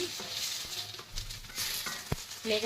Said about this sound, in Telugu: మధ్య మధ్యలో కలుపుతూ ఉండాలి లేకపోతే అడగంటే అడగంటుతుంది